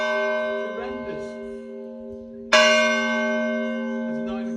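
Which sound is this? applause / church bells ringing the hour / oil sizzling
church bells ringing the hour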